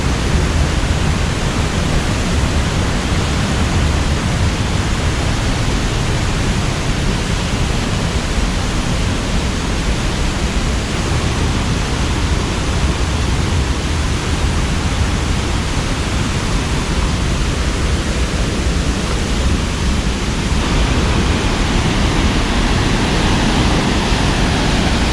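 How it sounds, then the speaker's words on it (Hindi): Pressurized water spraying up in Martvili Canyon, Georgia: a steady, loud, broadband rush of spray and flowing water that continues unbroken throughout, close to the listener. "पानी जो नीचे से प्रेशर से जा रहा है उसी का वो सामने वही पानी उड़ के यहाँ पे आ रहा है"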